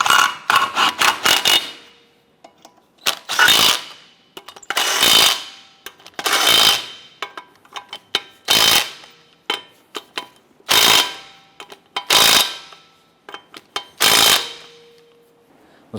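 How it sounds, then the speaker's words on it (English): Lug nuts are snugged down on a Nissan Versa wheel with an impact gun, a loud close ratcheting chatter in short repeated bursts separated by brief pauses. "let's go ahead and snug them down."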